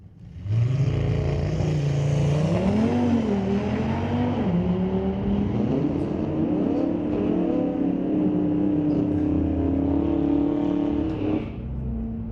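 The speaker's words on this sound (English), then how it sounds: "And the Audi able to chase him down with a full second deficit from the start line, ran a 961, 144 miles per hour" Audi drag car launching down a street-legal drag strip at Mission Raceway Park, its engine a loud, sustained roar that rises through the gears over several seconds, heard alone without talk.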